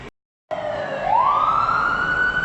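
A siren wails after a brief silence, its tone sweeping upward and then holding loud and steady, like an emergency vehicle close by, in a Seattle city street.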